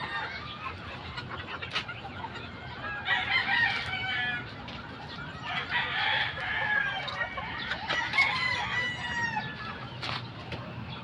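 Chickens and roosters on a chicken farm crow and cluck at a moderate distance, with several overlapping calls rising and falling over steady outdoor background noise.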